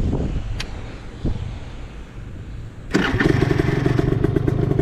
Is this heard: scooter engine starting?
yes